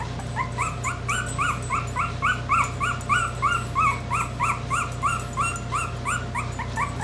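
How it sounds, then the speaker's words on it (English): A dog whines and yips over and over in quick, high-pitched bursts in a workshop, a steady rhythmic whimpering close by over a low background hum. "dogs are a distraction in the shop."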